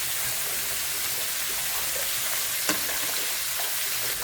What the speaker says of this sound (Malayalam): ഇളക്കം വെക്കട്ടെ.